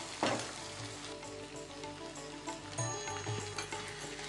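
Ground spices such as coriander, cumin powder and turmeric hit hot oil in a pan, giving a steady close sizzle with scattered crackles and a few stirring clinks, no talk over it.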